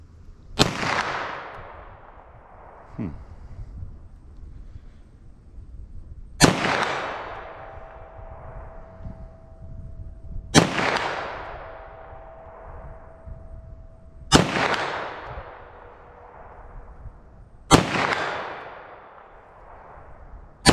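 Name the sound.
9mm pistol gunshots fired at 75 yards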